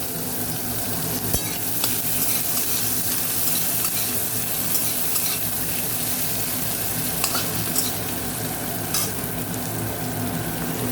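Onions, just a small amount, frying in a pan for a parshe fish curry, giving a steady, close, even sizzle with occasional faint scrapes of stirring throughout, no talking.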